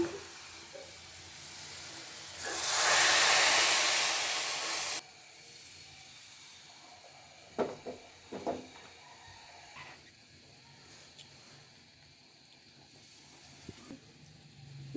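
Hot tempering poured into black gram lentil dal, giving a loud burst of hissing sizzle for a couple of seconds, followed by quieter bubbling and a few clinks of utensils.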